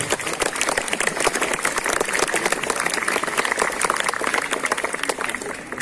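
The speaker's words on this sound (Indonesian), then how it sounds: "Kita beri tepuk tangan dan selamat dulu kepada kelas 10 baru" Steady applause from an Indonesian high school assembly at a flag ceremony, a dense crowd of claps filling the whole stretch at an even, fairly loud level.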